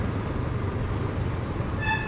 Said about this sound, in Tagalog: Ayan yung LRT sa taas.